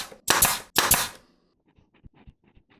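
Pneumatic nail gun firing into a cedar nesting box: two loud sharp bangs in quick succession, each followed by a short hiss of air, then faint clicks and handling noises.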